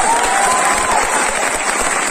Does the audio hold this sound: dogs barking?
no